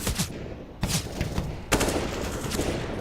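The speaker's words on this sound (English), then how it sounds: "They're hearing all that gunfire" Rifle and pistol gunfire in a professional Counter-Strike tournament match at IEM Cologne 2023, with loud, sharp bursts and rapid volleys near the start, at about 0.8 seconds, and a longer stretch of sustained shooting from about 1.7 seconds onward.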